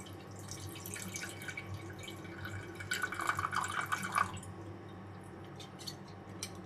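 About 120 ml of plain water is poured and drips into udon broth, quiet trickling and small splashes that swell briefly in the middle before settling into faint drips.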